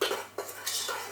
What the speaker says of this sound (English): Mix it in, dry ingredients, mix them in